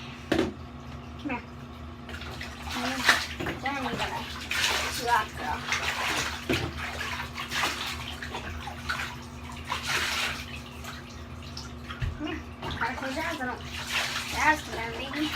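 Water running into a bathtub while a dog is rinsed off, a steady splashing wash that continues throughout, with a person talking over it now and then.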